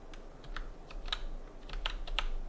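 Typing on a computer keyboard while setting up a BIOS on an AM5 PC, a quick run of light, irregular key clicks close by with no talking.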